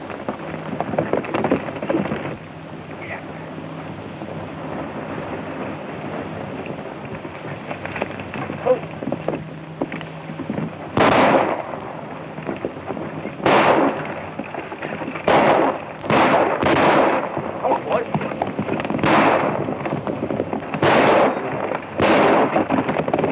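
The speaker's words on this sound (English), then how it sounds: "I want you to fire over their heads." Several sharp gunshots fired in a Wild West western film scene, a volley of separate bangs in the second half over a steady background noise, fairly loud and close.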